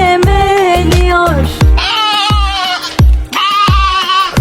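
A lamb bleats repeatedly in loud, wavering cries, close and clear, with short gaps between calls and a few low thumps underneath.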